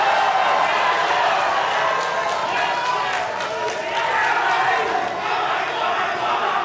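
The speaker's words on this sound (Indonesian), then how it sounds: "kita beri tepuk tangan yang meriah para pendukung" Supporters at a presidential debate clap and cheer in a loud, dense crowd roar, with shouts and voices mixed throughout the sustained applause.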